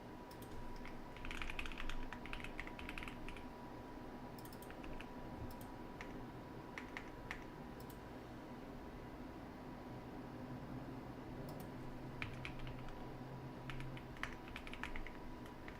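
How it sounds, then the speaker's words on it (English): Computer keyboard typing during a coding practice session, light irregular clusters of key clicks over steady room hum and air-conditioning noise, fairly quiet and close. "I think I'm just typing"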